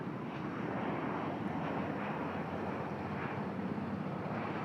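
Thai Airbus A320 airliners pass at an airport in Bangkok, a broad, steady jet roar with a wind-buffeted rush that holds level throughout, fairly distant and without voices.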